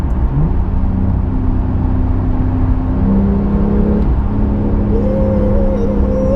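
A loud, steady Porsche 911 GTS exhaust drone rumbles close by in Sport Plus mode, its pitch lifting slightly near the end as the engine revs.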